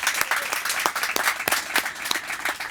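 An audience applauds at a public event launching free Wi-Fi for public housing in Revere, with a steady patter of sharp, distinct claps, moderately loud, with no talking.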